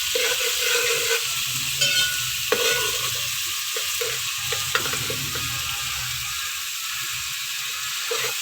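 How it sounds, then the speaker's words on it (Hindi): Garlic frying in oil in a pan, a steady close hiss and sizzle with occasional stirring clicks and scrapes, and no talk. "इस लहसुन को हल्का सा हमने थोड़ा सा बस 2-3 मिनट के लिए फ्राई करना है।"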